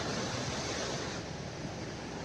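Sea waves crash against a cliff on the coast, heard as a steady, dense roar of surf that stays loud and unbroken throughout, with no voices.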